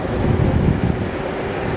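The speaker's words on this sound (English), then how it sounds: "it is really windy" Strong wind buffets the microphone while riding a VMAX VX4 electric scooter on a windy mountain road, a loud, steady roaring rush filling the short stretch with no talk.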